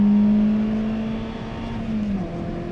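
A Peugeot 206 GTI engine revs toward 7000 rpm, a loud, close, steady droning tone that holds briefly and then drops away as the revs fall.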